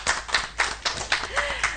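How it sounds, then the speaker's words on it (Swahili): An audience claps in applause, with scattered, uneven hand claps that rise and fall over a couple of seconds, moderately loud and close. "Tumuhure makofi mega ma muhotani."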